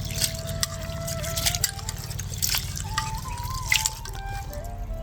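Starchy white rinse water poured off washed dal for khichdi, heard as soft trickling and dripping close by with light splashes, over a low steady background hum.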